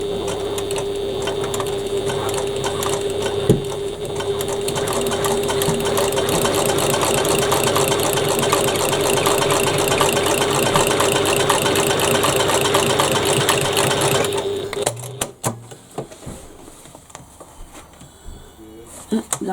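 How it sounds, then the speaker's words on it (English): A sewing machine stitches a bag's seam allowance down, a steady, close mechanical whir running for most of the stretch before cutting off, followed by quieter handling noises. "now I'm going to stitch the seam allowance down"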